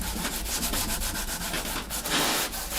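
Hand wet sanding of sprayed lacquer on an acoustic guitar kit body with 1000 grit sandpaper, a quick run of rhythmic rubbing strokes, close and steady with no talk.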